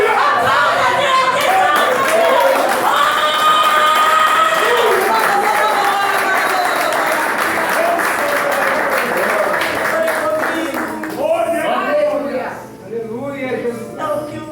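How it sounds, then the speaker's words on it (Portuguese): Congregation at an evangelical worship service breaking into sustained applause and clapping, loud and full throughout, with voices and shouts mixed in before it thins out near the end. "Aplauda a Deus."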